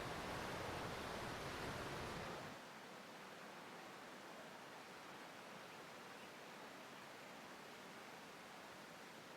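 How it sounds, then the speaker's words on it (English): A waterfall in a dinosaur game on a livestream gives a steady broadband rush of falling water, louder for the first couple of seconds and then a softer continuous roar. "And there's that waterfall."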